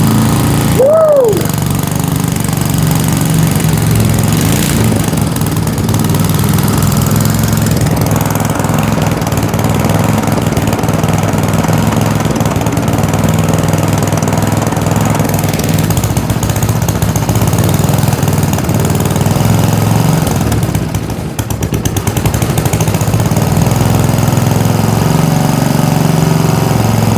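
A 1950s engine brought back to life after sitting dead for decades, running loud and steady with a rough, throbbing drone that holds throughout, close up and with no voices.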